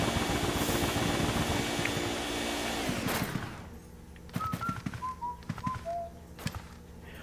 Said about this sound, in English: I also like how Luigi whistles the theme to the mansion